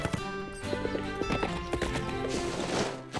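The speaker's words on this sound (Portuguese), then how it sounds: "Ótima cavalgada, Azteca." Cartoon horse hooves clip-clop in a quick galloping rhythm with a whinny, loud and close over background music in a Portuguese-dubbed animated horse series.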